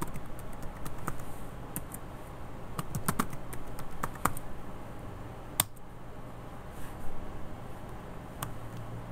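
Steady, irregular keystrokes on a computer keyboard as a root password is typed in during an ESXi 5.1 installation, close and fairly quiet, with a few sharper clicks, over a constant low machine hum.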